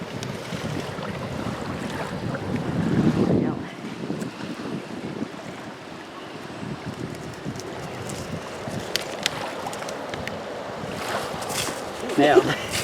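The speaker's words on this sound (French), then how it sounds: "parce que c'est le vent." Outdoor wind rushes and buffets against the microphone in a continuous roar that swells and gusts, with voices intermittently under it.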